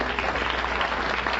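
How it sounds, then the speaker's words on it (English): Studio audience applauding a plumber contestant on the Groucho Marx quiz show You Bet Your Life, a dense, steady wash of clapping that holds at an even level throughout with no voices over it. "Say, plumbers always get applause here."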